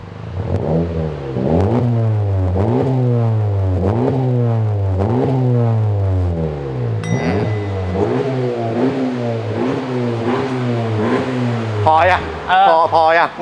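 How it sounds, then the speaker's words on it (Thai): A 2018 Honda Civic FK with a 1.5 turbo engine and a Kohey exhaust, revving repeatedly in a rising and falling rhythm, close and loud; the exhaust note is fairly soft, and a person speaks toward the end. "ท่อไม่ดังมาก นุ่มๆมากฟังดูครับ"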